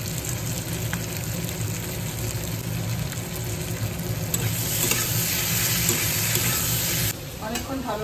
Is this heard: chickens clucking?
no